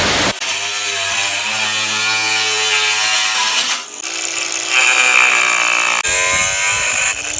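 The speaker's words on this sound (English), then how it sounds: "The most common is the metal cutting blade, and it's also the coolest because it throws a lot of sparks." Loud, continuous high-pitched whine of an angle grinder with a metal cutting blade cutting metal, with shifts in pitch as the blade bites and a brief dip partway.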